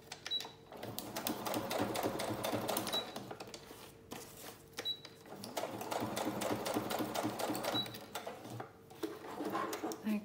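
A sewing machine stitches through layered paper clusters for a junk journal, running in two long bursts of rapid mechanical chatter with a brief pause between, close and steady.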